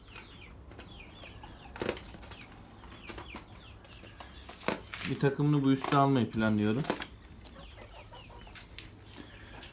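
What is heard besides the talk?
rooster and chickens in coop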